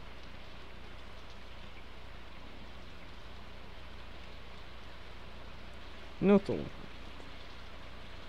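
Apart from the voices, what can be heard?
rain falling in the video game Stardew Valley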